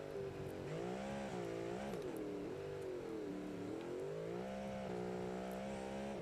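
A 730-horsepower race car in a Le Mans racing video game revs steadily, its engine note rising and falling through gear changes with a continuous harmonic whine, loud and alone throughout.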